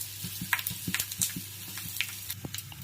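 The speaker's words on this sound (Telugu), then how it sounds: "ఇప్పుడు పోపు వేసుకుందాం." Tempering sizzles and crackles in hot oil as asafoetida and raw onion pieces go in for a raw mango pulusu, with close, irregular spitting pops over a steady frying hiss.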